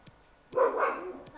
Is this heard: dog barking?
yes